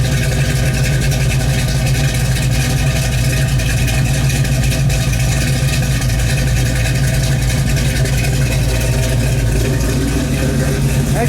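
A 1973 Plymouth Cuda project car's engine idles steadily with a deep, throaty rumble, loud and close, with a constant low drone and no talk over it.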